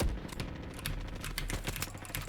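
Rapid computer keyboard key clicks from a player typing while running a realistic-mode Roblox game, a dense run of close, crisp taps over a low background hum.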